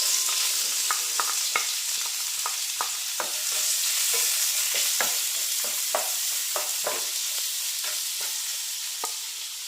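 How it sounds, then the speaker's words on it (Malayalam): Thinly sliced medium onion and garlic sautéing in a pan, a steady close sizzle broken by frequent sharp scrapes and clinks of stirring, with no talking. "അതിലേക്ക് മീഡിയം സൈസ് സവാള ചെറുതായിട്ട് അരിഞ്ഞാണ് കനം കുറച്ച് അതുകൂടെ ചേർത്ത് കൊടുക്കാം."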